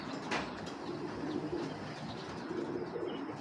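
A big-bodied, big-headed female pigeon gives soft, low, throaty cooing in a steady rolling stream, heard up close with no talking.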